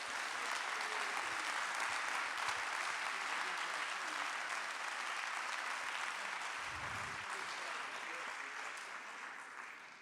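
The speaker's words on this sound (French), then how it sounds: "Je vous demande de les applaudir et de les remercier." An audience at a PEP professional-days event applauds, a dense even wash of many hands clapping at moderate distance that holds steady for ten seconds and tapers slightly toward the end, with a faint murmur of voices mixed in.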